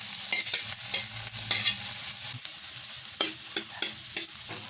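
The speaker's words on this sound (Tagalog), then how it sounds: "pagkatapos nating igisa yung mga bawang, sibuyas, pati na yung mga siling haba at siling pula" Garlic, onion, and long green and red chili peppers sautéing in a pan, with continuous close sizzling and frequent spatula scrapes and taps against the metal, no voices.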